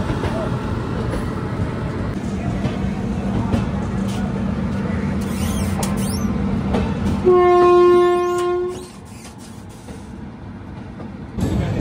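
Himgiri Express train running along the line, a steady rumble and rattle of cars under faint talk, then a loud sustained multi-tone horn blast that ends abruptly before the rolling noise continues more quietly.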